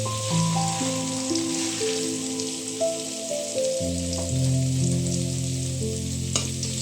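Paneer cubes fry in bubbling oil with a steady, close sizzle that runs throughout, mixed with sustained background music tones.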